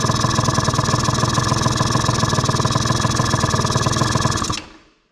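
A 2003 Arctic Cat 90 youth ATV's two-stroke engine idles on a lift, slightly loading up, with a close, rapid, even putter that cuts off abruptly near the end and fades to silence.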